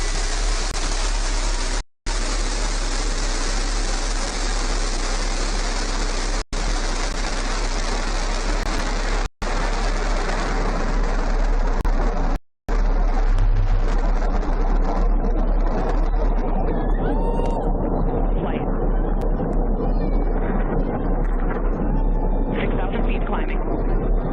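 After clearing the tower, the Blue Origin New Shepard rocket engine gives a loud, broad roar with a few brief dropouts, then thins into a fainter, crackling, distant rumble as it climbs.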